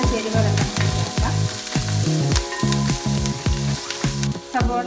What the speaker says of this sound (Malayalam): സവോള ചെറുതായിട്ടൊന്ന് വഴന്ന് വന്നിട്ടുണ്ട്